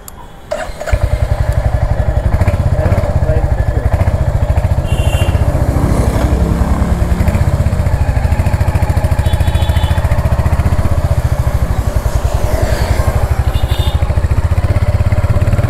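A Royal Enfield Hunter 350 motorcycle with a 350 cc J-series engine starts and settles into a loud, close, steady thumping idle with rapid regular pulses, running alone throughout.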